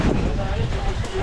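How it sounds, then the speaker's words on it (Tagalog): Strong wind buffets the microphone outdoors in a dense, continuous low rumble lasting just over a second, with a voice mixed in underneath. "Lakas ng hangin, no?"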